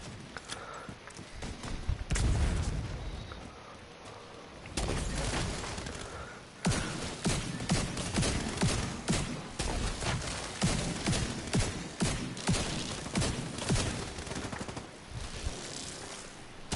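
Heavy shotgun fire and other gunfire in The Division 2, dense repeated blasts and bursts packed together loud and close, with a brief quieter lull early on.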